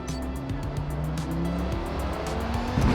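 Racing car engine droning steadily in a Le Mans endurance racing video game, a continuous near, fairly loud hum with rising intensity at the end, with brief tire noise and no talking.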